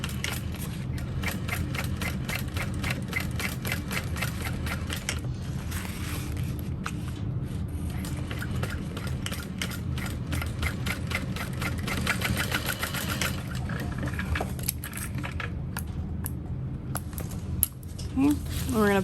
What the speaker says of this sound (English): Okay, and then we're going to top stitch.